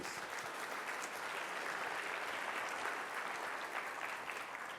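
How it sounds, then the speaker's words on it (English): Keynote audience clapping steadily at a conference, a dense, even wash of applause from a large room that holds at a fairly faint level without any speech. "A round of applause there, please."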